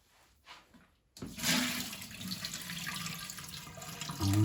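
Rice rinsed under a running kitchen tap, steady rushing water starting abruptly after a faint moment and continuing close and fairly loud, with a brief clink near the end.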